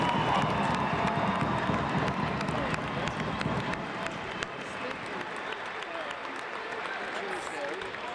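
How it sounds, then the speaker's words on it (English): Comets fans in an indoor soccer arena applaud and cheer loudly, a dense crowd roar with clapping that swells at first and then settles to a lower sustained rumble. "Comets fans, one more time, a big round of applause for Daniel for being here"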